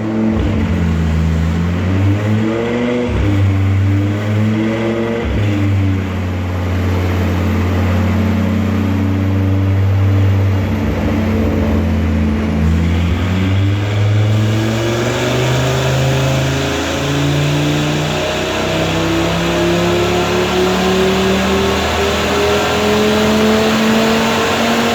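An Audi RS3 with a Stage 2 tune revs hard during a tuning run, loud sustained engine tone sweeping up and down through the rev range with repeated climbs, steady and close throughout.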